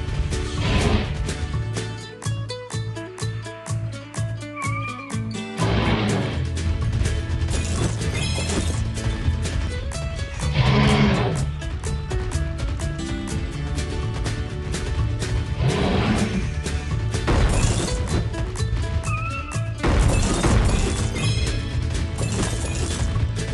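Rocks being smashed on a volcano in a PAW Patrol video game, with repeated loud crashing and crunching impacts over steady game music, bursts recurring every few seconds.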